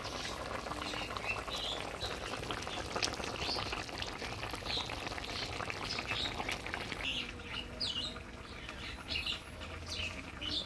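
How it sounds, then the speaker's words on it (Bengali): Fried hilsa pieces sliding into simmering village-style fish curry gravy with potato and eggplant: a steady bubbling, hissing sizzle running the whole time, with a brief shift partway through and faint birds chirping in the background. "এবার ভাজিয়ে রাখা মাছগুলো দিয়ে দেবো।"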